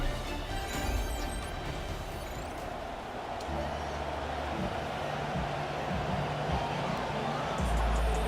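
Stadium crowd noise from the Madden 27 video game, a steady dense roar filling the background before an Indianapolis Colts franchise-mode game, with low rumbling layers and no clear talk over it.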